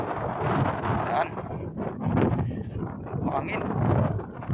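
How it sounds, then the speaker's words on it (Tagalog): Wind gusts buffet the microphone on a walk through Vlore, Albania, a rough, rumbling roar that rises and falls under someone talking. "Hangin."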